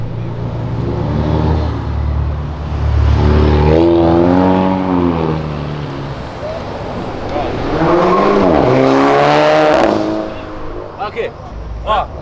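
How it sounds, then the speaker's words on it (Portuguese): Motorcycle engine revving hard in two loud surges with rising and falling pitch, launched on a city avenue, with people talking nearby between the bursts. "Tô lançando a moto."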